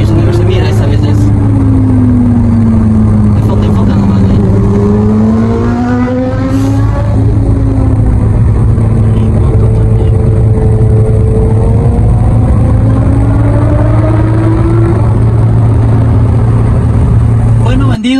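A Fiat 500 Sport's engine pulls steadily while accelerating in third gear from about 90 to 100, a loud, continuous drone close by with rising and falling tones and a voice talking over it.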